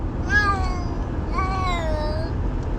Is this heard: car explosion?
no